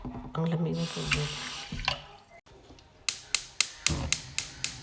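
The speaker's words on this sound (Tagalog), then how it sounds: "Ano ba yung reason kung bakit wina-wash natin yung rice?" Rice being rinsed under cold running tap water in a kitchen sink, with running water and splashing under a person talking, followed by a series of sharp regular clicks or taps near the end.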